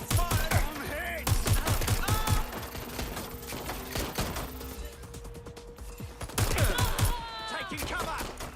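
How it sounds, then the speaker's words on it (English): Rapid bursts of gunfire from the video game Watch Dogs: Legion, loud volleys of repeated shots with pauses between them, mixed with frantic shouting voices. "Shots fired! Shots fired!"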